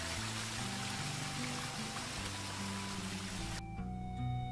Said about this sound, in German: Hallo Wasserfall, na?